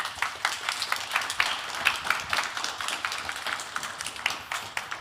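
An audience at an animation art paper session on extended reality claps steadily for a speaker, a dense patter of hand claps lasting throughout at moderate loudness.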